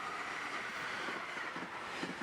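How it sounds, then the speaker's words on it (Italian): Frecciabianca train made of two power cars and five carriages pulling out for Rovigo, heard as a steady broadband rumble with wind-like hiss and faint low mechanical thuds, continuous and moderately distant, with no voices. "Il treno, in composizione di 2 motrici Frecciabianca e 5 vagoni, ripartirà ora alla volta di Rovigo."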